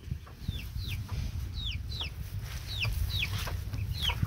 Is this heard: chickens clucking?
yes